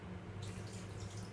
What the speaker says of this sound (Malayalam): എന്നിട്ട് നമുക്ക് ആവശ്യത്തിന് വെള്ളം ഒന്ന് ചേർത്ത്